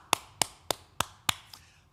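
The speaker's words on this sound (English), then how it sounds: "Let's clap for him" Five sharp hand claps ring out close by at a slow, even pace, each one crisp and separate, with no talking.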